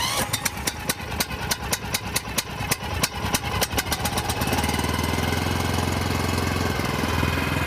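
Fast Attack 2 skid unit engine cranked on choke at low throttle, with a few rough irregular bursts before it catches and settles into a steady, loud, close idle.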